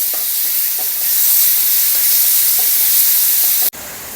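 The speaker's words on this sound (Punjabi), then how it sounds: "ਮਸਾਲਾ ਜਿਹੜਾ ਆ ਸਾਰਾ ਆਪਾਂ ਇਹਦੇ ਵਿੱਚ ਸ਼ਿਫਟ ਕਰਤਾ ਜਿਹੜਾ ਆਪਾਂ ਗ੍ਰਾਈਂਡ ਕੀਤਾ ਸੀ ਹੁਣ ਇਹਨੂੰ ਭੁੰਨ ਲਾਂਗੇ" Freshly ground spice masala roasting in a pan for a stuffed ridge gourd sabzi: a loud, steady sizzling hiss with faint periodic scraping stirs, cut by a brief dropout near the end, no voices.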